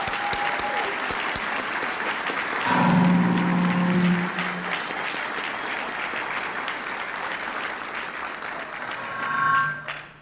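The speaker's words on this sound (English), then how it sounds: "let's give Ms. Tom a round of applause for that" An audience at a military change of command ceremony claps in sustained applause for about ten seconds, with a brief loud swell early on and quieter clapping fading near the end.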